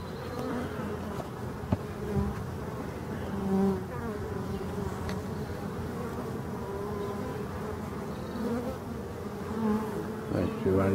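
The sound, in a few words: honeybees buzzing at beehive entrance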